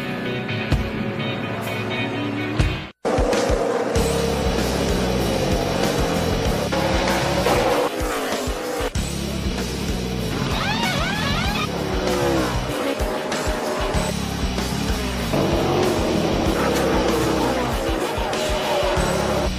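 NASCAR Nationwide Series race cars at Iowa Speedway near Des Moines during the 2011 John Deere Dealers 250, a loud continuous engine roar with rising and falling whines as the cars pass and one brief dropout early on.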